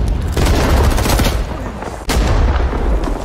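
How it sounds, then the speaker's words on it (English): A grenade explodes amid a chaotic firefight in Rising Storm 2: Vietnam, with loud, dense gunfire and booming blasts close by. A sharp, heavy burst cuts through the continuous barrage of shots. "my own damn grenade"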